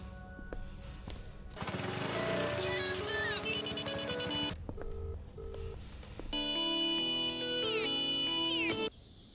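A phone ringtone sounds during a call, playing a loud, bright electronic melody in repeated stepped phrases with a short pause in the middle and no talking.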